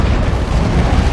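Grenade detonating in the strategy game Dawn of War 2: Retribution, a loud, dense, rumbling blast that fills the whole short moment without any talk.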